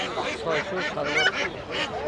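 Domestic ducks and geese at a busy weekly village market give repeated nasal honks and quacks close by, in uneven bursts, with market chatter faintly behind.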